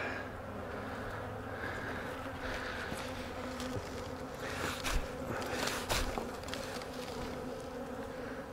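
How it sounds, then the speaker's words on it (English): A small swarm of honey bees buzzes steadily and close as it is shaken into a hive, with a few soft knocks and bumps against the box. "I'm going to shake these other bees in there because they need all the population they can get."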